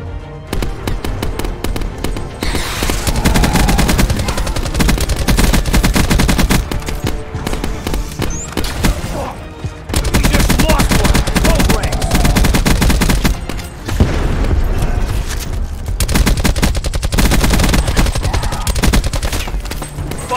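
Sustained automatic gunfire in the Call of Duty: Black Ops 4 campaign, loud and close, with rapid bursts of fire running almost continuously, broken only by short gaps.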